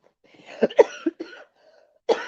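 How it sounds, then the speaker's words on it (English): Several harsh coughs from one person, close up: a cluster of three or four bursts in the first second, then a single cough after a short pause. "I know that coughing getting on y'all nerves"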